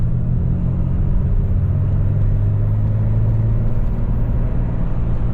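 A half-ton pickup truck accelerates with a steady, loud low engine rumble heard from close by, unbroken and without talk.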